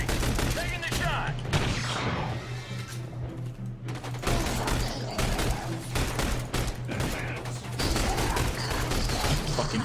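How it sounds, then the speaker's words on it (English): Gunfire in The Bureau: XCOM Declassified, a PC third-person squad shooter, crackles in loud, near-continuous volleys with heavy booms, sometimes rising into dense bursts, while voices talk over the battle. "Taking the shot."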